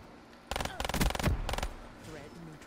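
Gunfire in Call of Duty: Black Ops III, a loud rapid burst of automatic shots lasting about a second, followed by quieter game sounds and a short voice.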